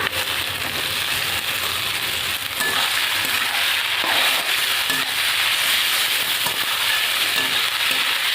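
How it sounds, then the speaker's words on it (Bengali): Mustard greens, tossed with salt and turmeric, fry with onion and garlic in a pan while being stirred, producing a loud, dense, continuous sizzle with occasional crackles and stirring scrapes, close up and without talk. "এভাবে আমি নাড়িয়ে শাকটাকে ভেজে নেব।"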